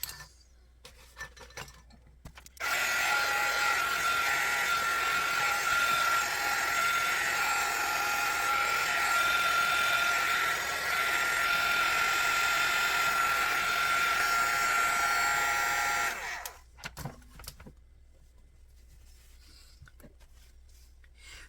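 A hair dryer blows on wet ink puddled on collage paper, a loud, steady whoosh lasting about thirteen seconds that starts and stops abruptly, with quiet room sounds before and after.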